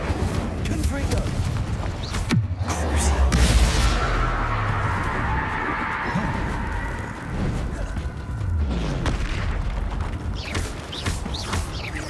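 In Hogwarts Legacy, the Incendio fire spell is cast as a sudden roaring burst of flame, with a second whooshing blast later and game sounds between them.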